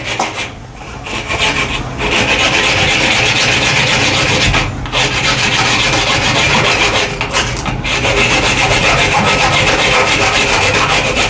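Wood is cut by hand with steady, continuous rasping strokes, close and loud, with a few brief pauses between passes.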